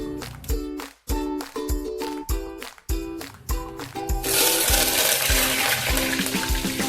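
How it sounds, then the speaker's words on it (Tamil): Mustard seeds splutter in hot oil in a kadai, a loud, dense sizzling hiss that starts partway through and continues steadily, following a stretch of rhythmic background music. "எண்ணெய் காஞ்சதும் கடுகு சேர்த்து பொறிக்க விட்டுக்கலாம்"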